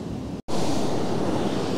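Surf at Kilcunda beach, a loud, steady wash of breaking waves with wind buffeting the microphone and a brief dropout near the start.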